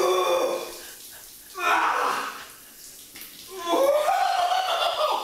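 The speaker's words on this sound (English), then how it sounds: "Okay, now get under that water." Shower water runs in a house on a celebrity reality show, a soft hissing spray that surges in bursts while people laugh, gasp and talk nearby.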